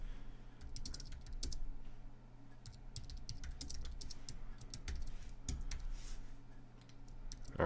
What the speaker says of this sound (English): we'll just type this out